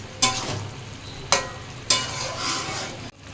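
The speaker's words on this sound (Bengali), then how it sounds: "মিশিয়ে দিচ্ছি লতির সাথে চিংড়ি মাছ" Prawns being stirred into a lati (taro stolon) curry in a pan: three distinct scraping strokes of the spatula, each followed by a soft sizzle, fairly close and quiet, with no talking.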